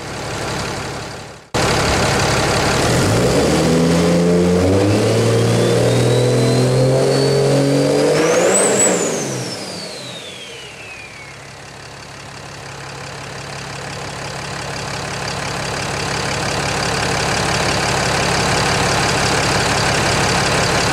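A 24-valve Cummins diesel in a second-generation truck cranks and fires up loudly. It revs hard with a rising whine, then drops back and settles into a steady, rumbling idle.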